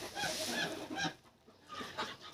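Geese honking as a newly introduced gander joins the flock, a few close, nasal honks and cackles overlapping in quick succession, fairly faint overall.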